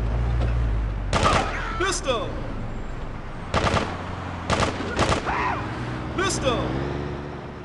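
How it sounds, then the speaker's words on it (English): Machine gun fire in Grand Theft Auto 2 rings out as several short, sharp bursts spread across the scene, loud and close, over a low engine-like hum with game background noise. "Machine gun."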